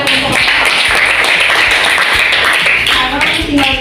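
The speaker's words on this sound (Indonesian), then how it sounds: "beri tepuk tangan kepada kelompok 4." Classroom applause for a student group in an Indonesian lesson, loud, dense clapping from many hands for about four seconds, close and continuous, with some voices mixed in.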